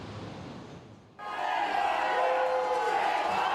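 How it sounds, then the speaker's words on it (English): Angry tenants at a New York City Rent Guidelines Board public meeting suddenly erupt into loud, sustained shouting and yelling. The roar of many voices stays steady and close after a quieter start. "At one point, the crowd stormed the stage and blocked off the board members"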